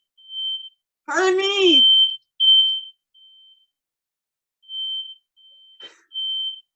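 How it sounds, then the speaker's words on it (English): A fire alarm goes off in a room, sounding as a string of high, piercing electronic beeps in uneven bursts, loud and close. A person briefly speaks over one of the beeps. "I was going to ask earlier if someone's fire alarm was going to go off"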